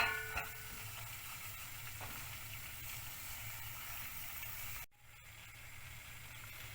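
Butter and flour sizzle gently while being stirred in a pan, a faint steady frying hiss with light scraping that briefly drops out near the five-second mark before resuming.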